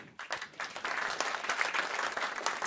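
Audience applause at a live poetry event, a dense steady patter of many hands clapping that starts abruptly and holds at a fairly loud, even level throughout.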